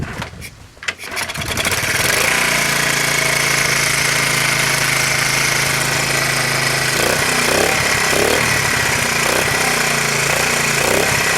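A 1984 Honda Z50R minibike, set up as a Tarpit 50 build, has its small engine running steadily up close. The engine holds a loud, continuous drone with a buzzing, rattly texture after a brief quiet start.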